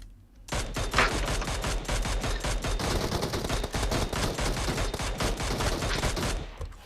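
Rapid sustained gunfire in PUBG Mobile, a dense burst of repeated shots running steadily for several seconds, loud and close, with no talking over it.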